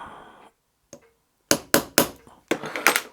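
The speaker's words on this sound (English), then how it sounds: "Using a transfer punch, I'm going to transfer one hole into the plate," A transfer punch is tapped with a hammer to mark a hole in a metal plate in a workshop, with a light preliminary tick followed by five sharp, ringing metallic strikes in an uneven rhythm, close and fairly loud.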